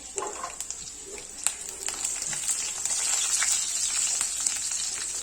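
Garlic cloves and sliced red chili frying in hot oil for a potato-leaf vegetable dish, a steady bright sizzle with crackling pops that thickens toward the end, close and continuous, with no talking.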